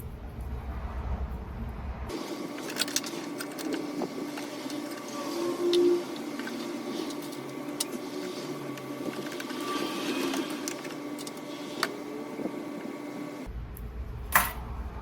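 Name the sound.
sewing machine stitching pajama fabric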